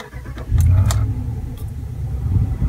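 A new Ram truck's engine starts up close by, a brief crank giving way at once to a steady, loud low idle rumble that holds to the end, with a few faint clicks or key jingles near the start.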